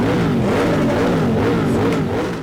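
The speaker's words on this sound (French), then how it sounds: "des moteurs qui vrombissent" Motorcycle engines roar and rev in a Port-Bouët, Abidjan ride-out of bikers, a loud, continuous wavering drone close by with no talking.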